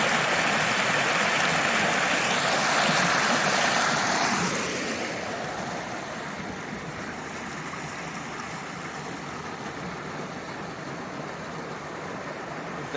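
Rushing stream water at Prompton State Park pours in a steady, loud hiss that eases off partway through and then continues as a constant softer flow.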